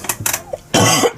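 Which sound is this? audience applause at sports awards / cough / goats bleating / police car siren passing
cough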